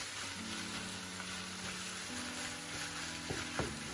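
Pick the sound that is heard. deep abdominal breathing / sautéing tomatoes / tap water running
sautéing tomatoes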